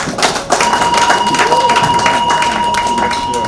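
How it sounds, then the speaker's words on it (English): An audience claps for an ambassador taking the stage at an evening event, a steady dense wash of applause lasting throughout at close range, with a faint sustained tone running beneath it. "Let's clap for him."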